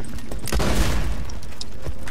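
Shotguns fire in the video game Borderlands 2, heavy booming blasts that blend into a dense, loud wash of gunfire with a few sharper cracks, no voices heard.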